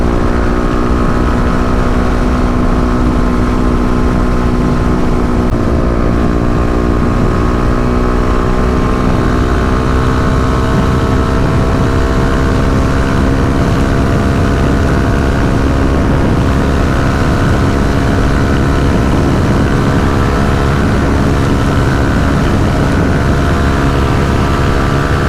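A Kawasaki KLX250 motorcycle cruises on a highway at about 70 mph and 7,500 RPM, its loud steady engine drone holding throughout under heavy rushing wind noise.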